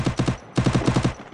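Rapid automatic gunfire from a 4v4 shooter video game match crackles in two tight, close bursts of evenly spaced shots separated by a short pause.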